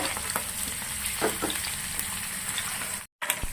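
Peanuts crackle and sizzle steadily in hot oil, a busy frying texture with scattered pops, briefly cut to silence near the end before resuming.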